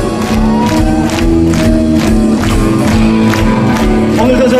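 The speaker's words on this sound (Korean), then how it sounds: "박수!" A large audience claps and cheers at a rock festival concert, a loud, dense roar of applause and shouts running continuously with rhythmic surges.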